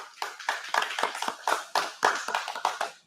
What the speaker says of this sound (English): And let's give her a welcome round of applause,